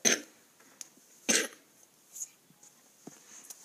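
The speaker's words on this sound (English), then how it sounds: "You got a little cough?" Several short coughs from a person nearby, two louder bursts followed by fainter ones, spaced unevenly in a quiet room.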